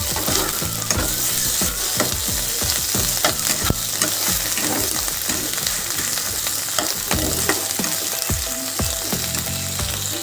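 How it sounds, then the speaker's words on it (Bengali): Ginger-garlic paste and onions are sautéed in a pan for pomfret fish curry, a loud continuous sizzle with rapid repeated scraping and clacking of a spoon stirring against the pan, close up. "এক চামচ আদা রসুন পেস্ট আমি দিয়ে দিলাম এবার এটাকেও আমি দু তিন মিনিট ভালো করে কষিয়ে নিই"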